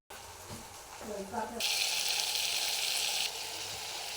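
A spice paste of turmeric, garam masala, coriander, cumin and chilli powder mixed with water drops into hot oil in a pan for a fish curry, bursting into a loud, close, steady hissing sizzle after a brief spoken moment.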